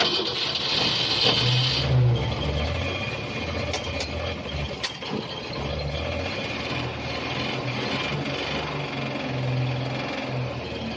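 A 1965 Ford Falcon engine catches and settles into a rough, steady idle with a mechanical whir and occasional sharp ticks. It is close, and no one speaks over it.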